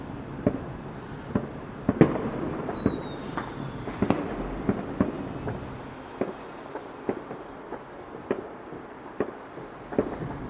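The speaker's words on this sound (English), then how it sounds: "there's a big one going off over there, look." Distant Bonfire Night fireworks over London pop and bang in an irregular series of sharp reports, fairly faint, over a low outdoor rumble.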